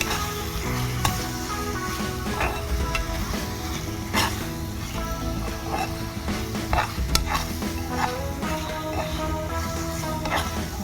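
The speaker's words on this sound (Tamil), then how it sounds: "ப்ரானை போட்டிருக்கோம். அதை வந்து நம்ம லைட்டாக மிக்ஸ் பண்ணி விட்டுடலாம்." Prawns for shrimp pasta sizzle steadily in a pan while a utensil stirs and scrapes through them, clinking against the metal in irregular strokes, close and continuous without talk.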